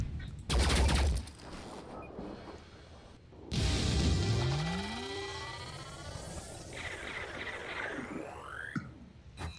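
Gunfire in the sci-fi tactics game Phoenix Point: a loud opening burst, a pause, then a heavy volley with rising whines and sweeping electronic tones that ring out and fade.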